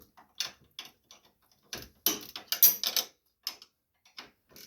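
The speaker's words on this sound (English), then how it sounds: "I got my nut started, so I'm gonna go ahead and tighten this" Wrench tightening a nut on the steering of a John Deere LA135 riding lawn mower, heard as a run of close, crisp metallic ratcheting clicks in short irregular bursts with quiet gaps.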